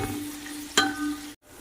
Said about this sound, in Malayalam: നമ്മൾ സവാള ഒരു ബ്രൗൺ കളർ വരണ വരെ നമുക്കിതൊന്ന് വഴറ്റിയെടുക്കാം